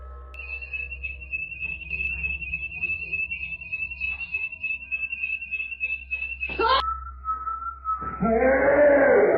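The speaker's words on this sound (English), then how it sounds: "the home alarm, which randomly went off" A home alarm going off indoors: a long, steady high electronic tone holds for several seconds, cuts to a lower pitch, then louder harsh noise swells at the end.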